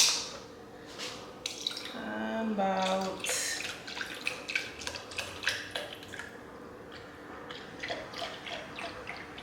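Almond milk poured from a carton into a Ninja Creami container, a short liquid stream and splashing with scattered drips and clinks, close and moderately quiet.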